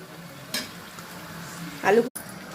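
Potatoes tipped into a hot pan for a jackfruit and paneer curry give a quiet background frying hiss, then a brief louder sizzle and clatter as they land, ending in a short cutoff.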